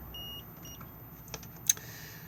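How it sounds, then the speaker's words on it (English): A few faint, short electronic beeps from a caravan fridge warning of no tow-vehicle connection, followed by a couple of soft clicks in an otherwise quiet room. "if I press it, we will get a beeping noise and a red indicator"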